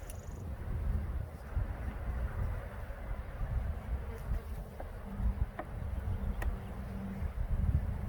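A dense, low buzzing of many honey bees close by around their hive, steady and continuous with a few louder individual drones passing.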